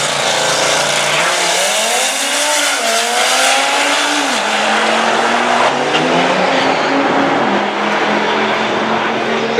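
Stage 2 Unitronic Audi RS3 on E70 fuel racing a Ford at the Maple Grove drag strip, loud engines rising and shifting through gears with tire noise, a sustained roar that fades slightly toward the end.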